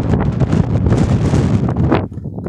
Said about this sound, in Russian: Прямо камеру вырывает ветер из рук.